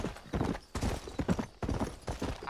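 Horse hooves clip-clop in Red Dead Redemption, a steady rhythm of close, heavy thuds in quick succession.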